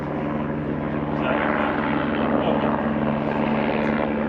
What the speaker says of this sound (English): Oh wow, it's a helicopter.